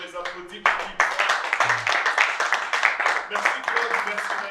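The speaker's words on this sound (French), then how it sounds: "Ok, on les applaudit pour qu'ils voient." An audience applauds at a theatre play, a dense burst of hand clapping lasting throughout, steady and fairly loud with no break.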